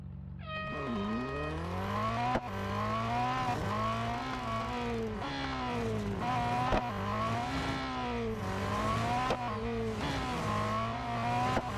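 A racing car in Real Racing 3 sets a speed record lap on the short version of the Porsche test track. Its engine drones loudly and continuously, pitch climbing and dipping repeatedly as it revs through gear changes.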